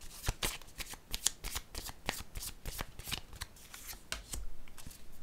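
Playing cards shuffled for a card reading, a rapid series of crisp riffling bursts and snaps repeating steadily, close and fairly quiet with no voices.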